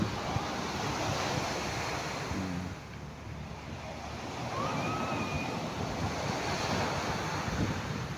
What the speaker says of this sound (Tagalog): Kabugnaw sa ko lawas kay kusog sa hangin